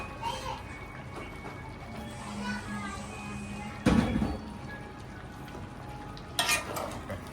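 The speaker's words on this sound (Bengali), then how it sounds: "আলুটা দিয়ে একটু নাড়াচাড়া করে আবার ঢেকে ঢেকে দেওয়া হবে" Potatoes go into a pot of simmering meat curry and get stirred, bringing soft scraping and a couple of sharp pot clanks over a low sizzle, with quiet speech in the background.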